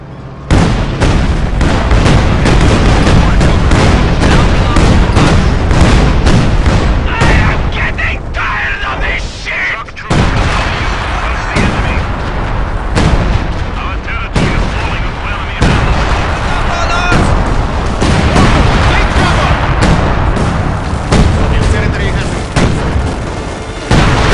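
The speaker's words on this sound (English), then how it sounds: "Our artillery did not hit a thing." Artillery fire in Company of Heroes 2, with loud, dense booms and cracks of shelling and gunfire rolling on without a break through a long battle din, while voices speak over it.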